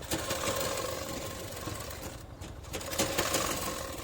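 A sewing machine runs steadily throughout, stitching decorative lab piping onto a finished designer kurta sleeve, with a continuous mechanical whir and a brief dip midway.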